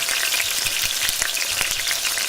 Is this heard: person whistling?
no